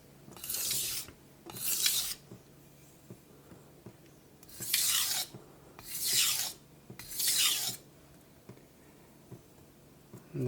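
Knife blade drawn across a Naniwa whetstone in five distinct scraping strokes, two close together, a pause, then three more, each a bright rasping hiss, close and clear with no talk.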